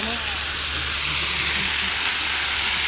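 Oil frying and burning off in a pan on an outdoor cookout in Transylvania, a steady dense hiss and crackle filling the whole stretch, close and continuous, with a low rumble underneath.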